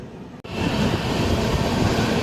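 The Kochuveli-Mysuru Express runs along its line, a loud continuous rumble and roar of the train in motion that sets in after a brief quiet gap and holds steady throughout, with no voices.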